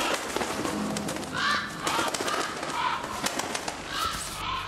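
Cooing and chirping birds call repeatedly in a horror game set aboard a ship, moderately close, layered over a steady ambient hum with faint movement noises.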